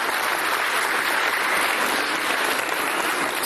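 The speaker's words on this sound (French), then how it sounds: "Je vais donc vous demander de me le faire sentir par des applaudissements pour vous-même" A crowd at a football awards gala applauds steadily, a dense, even wash of clapping that holds at constant loudness for a few seconds.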